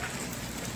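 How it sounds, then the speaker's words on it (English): Heavy rain pouring in Boracay, a dense, steady hiss of falling water with no distinct drops standing out, brief and fairly quiet, no talk. "And it's raining. It's really raining."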